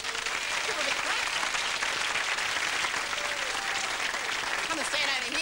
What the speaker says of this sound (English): Give her a big clap.